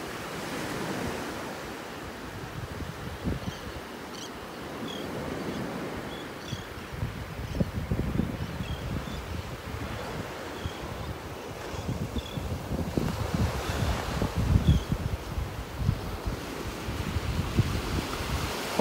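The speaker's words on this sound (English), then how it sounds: "I hope you enjoyed this wet and windy beach walk at Del Nor-Wiggins" Surf and wind on the beach at Delnor-Wiggins in North Naples during Tropical Storm Gordon: steady rumbling waves with gusts buffeting the microphone, growing rougher and louder toward the end.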